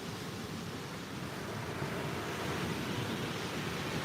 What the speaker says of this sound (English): And the little extra busy waves are nice too.